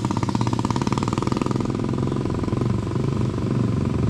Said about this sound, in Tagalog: May paparating pang Skylab. Tatlong Skylab.